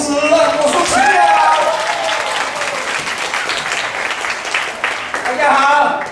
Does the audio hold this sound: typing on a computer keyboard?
no